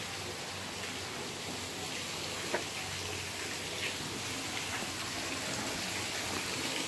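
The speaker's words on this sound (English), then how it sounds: "And there's a really nice waterfall over here, you guys." A zoo waterfall gives a steady, broadband rushing wash of falling water that holds at an even level throughout, with a faint tap or two near the middle and no talk.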